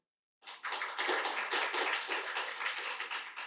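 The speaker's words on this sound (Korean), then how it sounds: "한 분 한 분 소개해 드릴 때 큰 박수 부탁드리겠습니다" An audience at a Korean policy forum on AI claps for guests as they are introduced; dense applause starts abruptly after a short silence and stays full and even.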